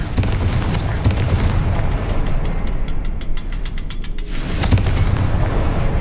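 A Confringo explosive spell blasts in the Hogwarts Legacy video game, a loud, dense rumbling burst that holds steady for several seconds with crackling debris on top.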